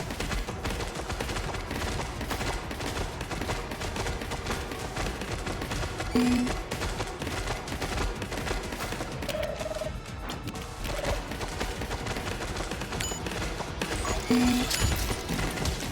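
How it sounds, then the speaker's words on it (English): Turrets fire in the video game Space Dwarves, a dense, continuous crackle of rapid gunfire with occasional small electronic blips over a steady game soundscape, with no talking. "I boosted these turrets and then increased the range so they can crossfire all the way over."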